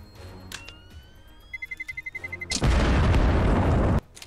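A bomb in CS:GO gives a fast run of rising electronic beeps, then a loud, close blast that roars for over a second before cutting off.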